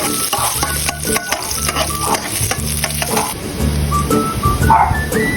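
Garlic sizzling and being stirred in a frying pan as the base for sautéing mackerel with onion and tomato, a steady close hiss with repeated scraping strokes of a utensil.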